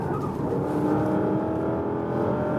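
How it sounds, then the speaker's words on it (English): Porsche Panamera Turbo S Hybrid pulling hard at full throttle on a racetrack, a loud, steady engine roar with a dense low drone that holds constant for the whole short stretch, close-up from inside the car. "when you hammer the throttle really to the bottom, that's also a funny feeling"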